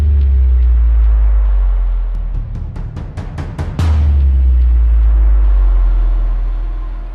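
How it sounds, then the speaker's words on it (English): Heavy low rumble of traffic on a busy road beside an abandoned gas station, loud and continuous, easing slightly in the middle where a series of sharp rattling clicks comes through before the roar surges back. "I'm sorry for all that street noise you can hear in the background."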